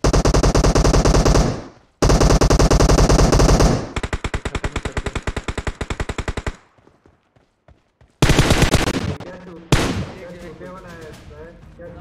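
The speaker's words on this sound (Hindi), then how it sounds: "ओ भाई ये पॉकेट में गोली चला रहा है" Rapid automatic gunfire from a video game gun, loud and close, in dense bursts that stop and restart, with a run of distinct evenly spaced shots in the middle and a brief quiet gap before more firing.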